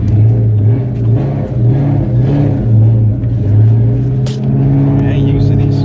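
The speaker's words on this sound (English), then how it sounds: "going for a ride in the GT" A Ford GT fitted with X-pipes, H-pipes and Flowmaster/Roush mufflers is heard from inside while driving, its exhaust giving a steady deep rumble that rises and falls with throttle, loud and close, with people talking over it.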